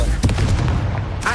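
Confringo spell in Hogwarts Legacy, a short loud booming blast with rumbling bursts close together, followed by a brief crackling tail.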